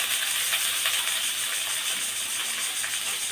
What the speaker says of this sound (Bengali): এরপরে দিয়ে দেব একটুখানি জল মশলাটা কষার জন্য